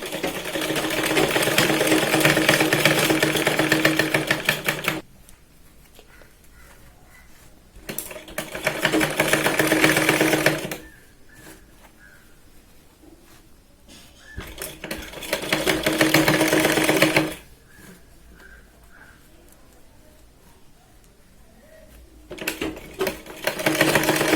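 An electric sewing machine stitches a Katori blouse, running in four loud, steady whirring bursts of several seconds each. Quiet pauses fall between the runs, and no one speaks.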